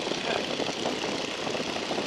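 Boeing Stearman biplane in flight, its propeller engine droning loudly and steadily throughout with no break, a continuous close cockpit roar as the aircraft slows toward a stall.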